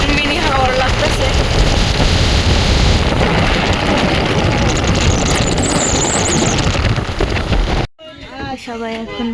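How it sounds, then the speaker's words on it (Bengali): Wind blowing outdoors across flooded fields after heavy rain, a steady loud broadband rush with gusty roar that cuts off abruptly near the end, leaving quieter ambient sounds and faint birds. "এখন মিনি হাওয়ার লাগতেছে"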